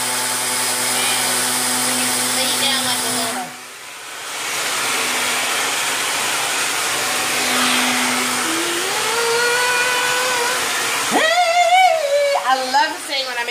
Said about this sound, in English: So now what I'm going to do is take my blow dryer.